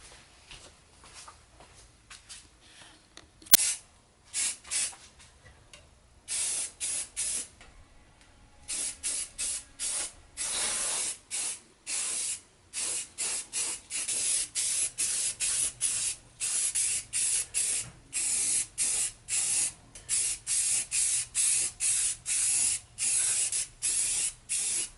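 Aerosol can spraying regular primer onto parts of a helmet stand, heard as a series of hissing bursts, short and sparse at first, then longer and more frequent, close and fairly loud with brief pauses between passes.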